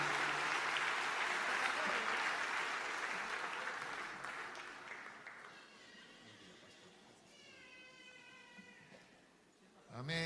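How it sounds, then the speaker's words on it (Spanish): Church congregation claps for the Lord and their pastor, a dense burst of applause that fades over several seconds into quieter rustling, with a few scattered voices and a faint tonal sound near the end. "le demos un aplauso al Señor por la vida de nuestro pastor"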